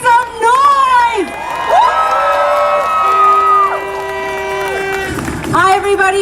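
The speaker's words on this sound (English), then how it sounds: "Sunnyside, make some noise!" A street crowd at the St Patrick's Day parade in Sunnyside, Queens, New York City cheers and whoops with shouting voices, loud and close, while music plays underneath.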